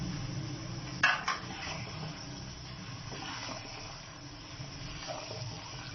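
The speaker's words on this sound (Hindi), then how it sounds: "अब हम इस मसाले को मिक्स कर लेते हैं" A spoon stirs masala in a metal cooking pot for chicken moti pulao, with a couple of sharp clinks at the start, then soft scraping and mixing over a steady low background.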